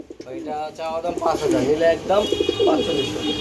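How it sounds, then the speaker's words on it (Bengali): Ring pigeons of the German Original Beauty breed cooing close by in a loft, soft throaty rolling coos mixed with a nearby voice. "রিং এর কবুতর দেখতে পাচ্ছেন জার্মান অরিজিনাল বিউটি"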